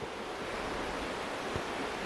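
River water flowing near a forest campsite in Pisgah National Forest, a steady broadband rushing wash like distant surf, continuous and even, with no voices.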